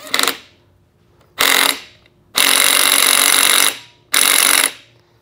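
A power tool, likely an impact driver, tightens a Nord-Lock clutch nut on a Beta 200RR dirt bike in four loud, close bursts of hammering rattle, short, short, long, short, with quiet gaps and no talk.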